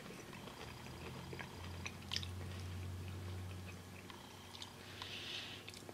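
Gorton's mac and cheese shrimp bites with breadcrumb coating are chewed close to the mic, giving soft, quiet, continuous mouth and crunch sounds with occasional small clicks, no talk.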